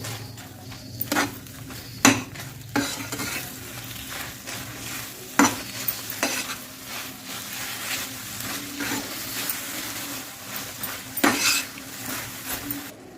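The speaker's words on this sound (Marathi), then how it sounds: "मी एक वाटी किसलेला नारळ ओला नारळ तर आपण याच्यामध्ये मिक्स करून घेऊ" Grated fresh coconut stirred through boiling melted jaggery in a pan, a steady bubbling simmer broken by sharp scrapes and clinks of a spoon against the pot, with no one speaking.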